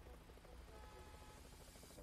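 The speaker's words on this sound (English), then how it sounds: "Can you hear a helicopter?" Helicopter passing overhead in American Truck Simulator, a steady low rotor thump and engine drone filling the scene under game road noise, moderately loud and continuous.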